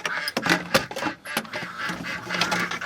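Pekin ducks calling inside a cold barn, a busy mix of overlapping quacks and clucking calls from many birds, continuous and moderately near, with some clattering patter underneath.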